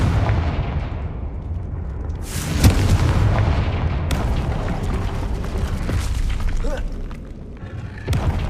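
Confringo spell explosions in the Hogwarts Legacy video game, sharp booming blasts, one loud burst near the start and another toward the end, over a rumbling background of game effects.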